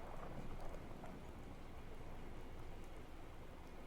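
Steady rain falls in the Fallout 4 game world, a soft continuous hiss of drops with faint low rumble, even and unbroken throughout with no voices.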